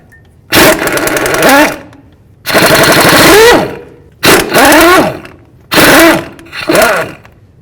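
Impact wrench loosening the front differential mounting bolts on a 1992-2000 Chevy Tahoe during a CV axle job, with four loud rattling bursts, each about a second long, separated by short pauses and heard close up without talk.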